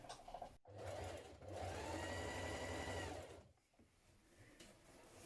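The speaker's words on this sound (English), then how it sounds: "Now we're going to top stitch around the edges of our yoke waistband." A sewing machine top stitches around the edges of a trouser yoke waistband in two steady runs, broken by a brief pause near the start and a quieter stretch toward the end, close and alone.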